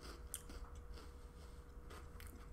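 Quiet, close-up crunching of a crisp chocolate rye cracker being chewed, several sharp crackly bites in an uneven rhythm with no talking.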